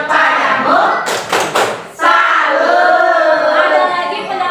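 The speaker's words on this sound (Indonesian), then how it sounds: "Ya, kita kasih tepuk salut dulu untuk tepuk salut." Children in a classroom perform a rhythmic 'tepuk salut' clapping chant, a burst of sharp group claps in a patterned rhythm set among voices chanting together.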